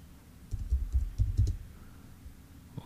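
Several quick keystrokes on a computer keyboard, typing a command into a disk utility, soft clicks bunched in a short burst then quiet, close and fairly faint with no talking.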